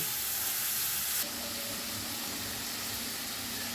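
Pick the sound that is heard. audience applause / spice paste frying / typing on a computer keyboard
spice paste frying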